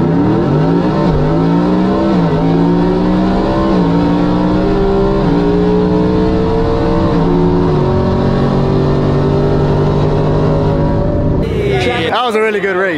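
Coyote-engine Ford F-150 pickups drag racing, a loud, sustained engine roar climbing through several gear changes with stepped pitch drops, close and dominant, ending in a brief burst of mixed noise.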